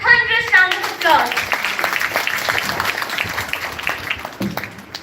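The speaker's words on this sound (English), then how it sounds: "Let's give her a thunderous round of applause." An audience at a school event applauds a student, the clapping rising under and after a speaking voice that is fading out and then carrying on as a steady crowd patter.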